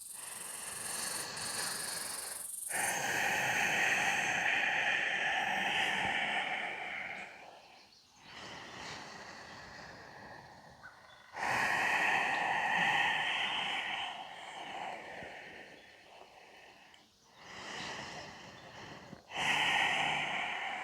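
Long, deep breaths during outdoor yoga practice in nature, slow drawn-out inhales and exhales recorded up close, repeating several times with short pauses and faint birdsong behind.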